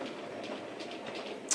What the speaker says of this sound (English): we've got trains running